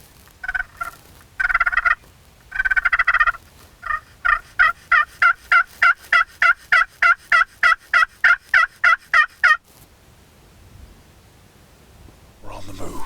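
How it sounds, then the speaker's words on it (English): Repeated wild turkey gobbles and calls ring out in Oklahoma in a fast series of loud bursts, fairly close, ending in quiet outdoor ambience. "he told us that we got turkeys gobbling"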